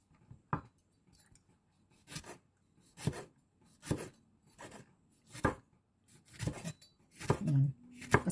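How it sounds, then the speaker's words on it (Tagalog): A knife chops three chillies on a board in a home kitchen, sharp separate thuds spaced unevenly and growing quicker toward the end, close and otherwise quiet. "So, maghihiwa din tayo guys ng 3 chillies."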